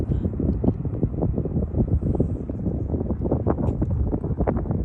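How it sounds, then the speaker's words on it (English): Gusty wind over an open Alaskan marsh buffets the microphone in loud, low rumbling bursts that pulse unevenly throughout, close and dominating, with no clear talk. "Of course the wind's trying to blow."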